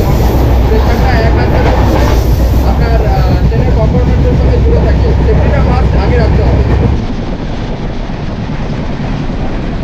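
Loud, steady rumble of the Howrah–Digha Tamralipta Express rolling on rails near Contai, with rattling carriage noise throughout that drops to a quieter hum near the end.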